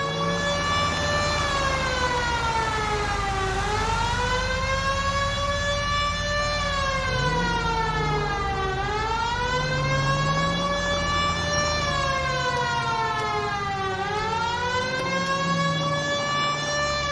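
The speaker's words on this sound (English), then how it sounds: "Cole, turn on the siren and pull her over." Wailing police car siren in the L.A. Noire video game, loud and continuous, rising and falling in long sweeping cycles over a steady engine rumble.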